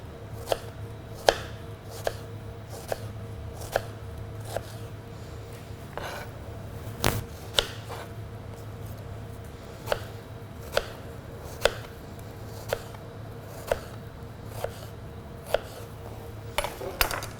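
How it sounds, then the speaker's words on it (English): Knife slicing fresh strawberries on a cutting board, a steady series of crisp taps repeating roughly every second, close and clear against a quiet kitchen background. "Then I'm going to take some fresh strawberries, put them in slices."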